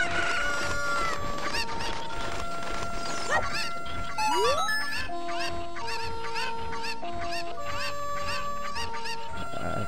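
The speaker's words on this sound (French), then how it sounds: "la poule avance gentiment, tranquillement, toute seule vers, vers l'enclos" Chickens cluck in Zelda Ocarina of Time as a hen walks toward its pen, with short repeated clucks and squawks over a bright, steady game music track.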